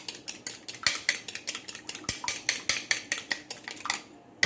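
A utensil mashes shami kebab mixture, seasoned with chili and salt, in a metal pot, giving steady rhythmic scraping clinks of roughly four per second, close and alone, before stopping near the end.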